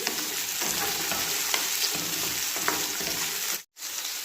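Carrots and potatoes tumble into a pan with onions and are stirred for a chicken dish with coconut milk, giving a steady sizzle with scraping stir strokes and a brief dropout near the end.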